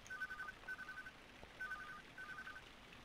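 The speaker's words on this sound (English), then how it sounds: "We're getting the phone call." A phone ringing in the game TAPE: Unveil The Memories, a faint electronic trilling ring heard in four short bursts in a steady rhythm over a quiet background.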